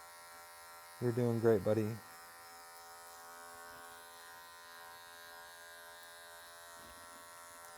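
An electric hair clipper buzzes in short bursts for about a second during a barber-class haircut, near and fairly loud, with someone talking softly over a quiet background hum.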